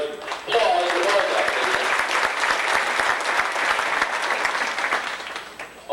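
Audience at a 1992 racing banquet of champions applauds, a dense, steady burst of clapping that swells quickly and holds before tapering, close and filling the room, with a voice briefly audible at the start.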